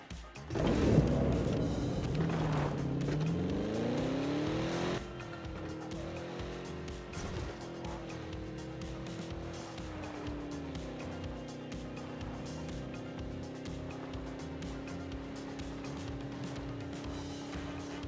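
A car driving in PUBG, a steady engine drone with shifting pitch as it accelerates, loud at first then settling to a quieter continuous hum.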